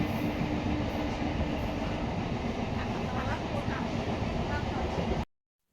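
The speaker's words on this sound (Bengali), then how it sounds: "আমরা ট্রেনে উঠে পড়লাম আর ট্রেনে করে যাব আন্দুর স্টেশন" Local commuter train in motion with a steady loud rumble of wheels and carriage noise throughout, evening ride toward Andul station, ending abruptly in silence.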